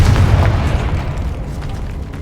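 A Confringo blasting spell explodes in Hogwarts Legacy: one loud, deep boom that rumbles and slowly fades over a couple of seconds.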